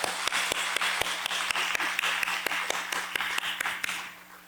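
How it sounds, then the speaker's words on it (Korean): A congregation at a Sunday worship service at Sejong Myungsung Church claps together in a steady, even rhythm of sharp beats, filling the sanctuary before fading out near the end. "하나님께 영광의 박수를 올려드립니다."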